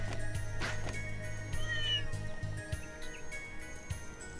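Cat meows from the video game Trails through Daybreak, a few short mewing calls over steady game music and a low background hum, moderately faint.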